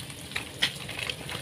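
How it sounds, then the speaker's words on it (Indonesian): Squid spatters and pops in hot frying oil while green chili salted squid cooks, giving a soft sizzle with a few sharp crackling bursts over about a second and a half. "Cuminya loncat."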